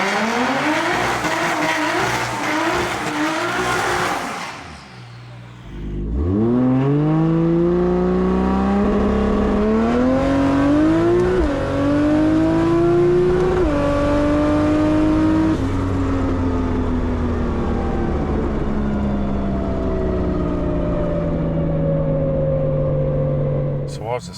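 A Cresta race car accelerates hard during a race in Australia, its engine climbing through the revs with repeated gear shifts, loud and close for a sustained run after a brief lull.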